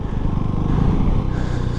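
A KTM Duke 390 motorcycle engine rumbles close and loud, a steady throbbing note that swells slightly then settles.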